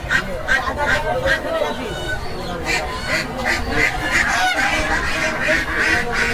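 Geese honk repeatedly in a busy poultry market at Baneshwar bazaar in Rajshahi, their loud, overlapping calls mixed with ducks and the steady hubbub of people talking nearby.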